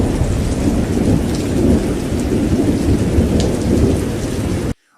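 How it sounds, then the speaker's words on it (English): Heavy rain pours in a dense, loud, continuous roar during Hurricane Melissa's tornado storm in Jamaica, with faint rumbling underneath, before cutting off abruptly near the end. "Oh, damn, this tornado."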